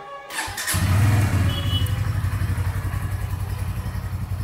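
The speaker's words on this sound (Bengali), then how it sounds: "আর হচ্ছে বাইকটা স্টার্ট করি" A Bajaj Pulsar motorcycle engine cranks and catches, then settles into a loud, steady idle with a rapid throbbing pulse, heard up close.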